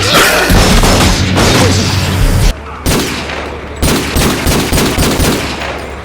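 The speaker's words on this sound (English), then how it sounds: "those are not real gunshot sound effects" Loud bursts of rapid, video-game-like gunshot sound effects from a TV show crackle one after another, with a short lull partway through before the shooting resumes.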